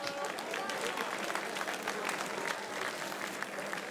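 An audience at a Nigerian stand-up comedy show applauds steadily throughout, with dense clapping from many hands and a few voices mixed in.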